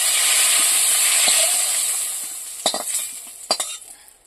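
Spices sizzle and crackle in hot oil, stirred around a pan while cooking a Bengali curry of lote fish with potato and brinjal, with a steady frying hiss and a few sharp scrapes of the stirring spoon near the end.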